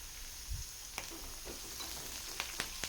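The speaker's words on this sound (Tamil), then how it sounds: "இப்போது இது கூடவே ஒரு கொத்தளவுக்கு கருவேப்பிலை சேர்த்துட்டு நல்லா வதக்கி விட்டுக்கோங்க." Onion and curry leaves sauté in oil with a soft, quiet sizzle, broken by a few light clicks and taps as the pan is stirred.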